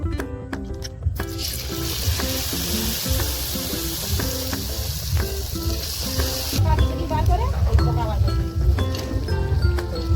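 Oil sizzles and crackles steadily as mushroom pakoras deep-fry, with faint clinks of a utensil; some muffled background voices sit under the frying.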